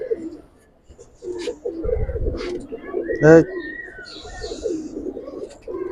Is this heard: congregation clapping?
no